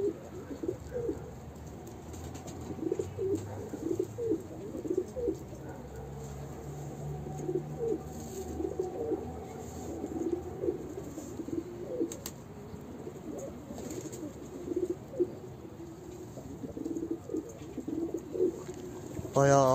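Pigeons let out of a coop coo repeatedly near at hand, soft rhythmic calls overlapping through the whole stretch with a few chirps and flutters, while someone talks quietly in the background.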